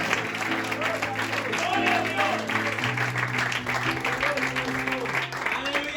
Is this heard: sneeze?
no